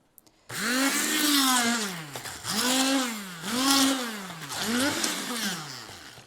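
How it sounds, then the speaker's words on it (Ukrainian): An immersion blender whirs loudly in repeated surges, its motor pitch rising and falling as it purees boiled broccoli in a bowl, with short pauses between pulses. "Ми переклали вже варене наше броколі в мисочку і починаємо збивати"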